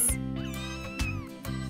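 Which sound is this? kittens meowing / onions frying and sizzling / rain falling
kittens meowing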